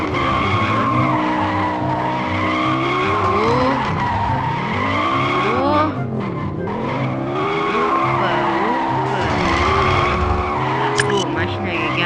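Tires squeal in long sweeping skids from a car in the Extreme Car Driving video game, loud and continuous, with the engine droning underneath.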